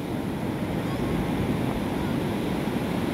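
Ocean waves at a beach, a steady broadband wash of surf with wind rumble, continuous and fairly loud with no distinct breaks.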